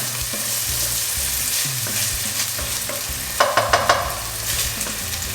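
Aromatics softening in olive oil as the base for a Thai-style coconut sauce for cod, giving a steady close sizzle with stirring scrapes and a brief cluster of sharper clicks midway.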